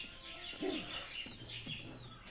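Soft, low cooing from pigeons comes in a few short bursts over a steady background hum, close by with no talking.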